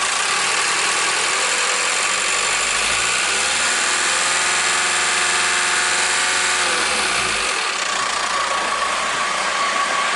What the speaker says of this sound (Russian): Работа двигателя на повышенных оборотах.